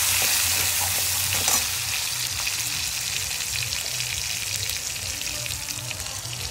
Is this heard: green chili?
yes